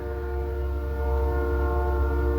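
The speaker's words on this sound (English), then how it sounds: "now there's a train whistle blowing" A train whistle blows as one long, steady, loud tonal blast with strong harmonics, sustained throughout with no talking.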